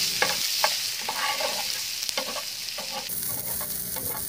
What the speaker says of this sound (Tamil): எண்ணெயை சேர்த்து பொன்னிறமாக வதக்கிட்டுருக்கேன்.